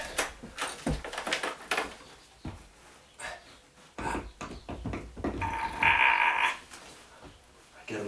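A door being lifted and set back onto its hinges, top hinge first, gives a series of close wooden clunks and knocks with a brief squeaky scrape midway, while people talk nearby.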